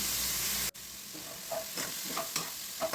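Chopped onion and green chili sizzle as they are sautéed for a raw banana fry, with a few soft stirring scrapes; a brief cut near the start breaks the steady frying hiss.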